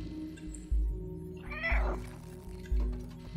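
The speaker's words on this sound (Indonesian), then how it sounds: "di setiap dia meong kayak ada sinyal untuk insting arah dia mau kemana ya" A cat in the video game Stray gives a single drawn-out meow near the middle, clear over soft, rhythmic low game thumps and faint background tones.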